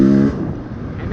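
Two-stroke motorcycle with a Keihin PWK carburetor, fitted with a low-RPM bog, is given a sharp whack of throttle from low revs, a loud close engine burst that drops back to a rougher running note after a fraction of a second.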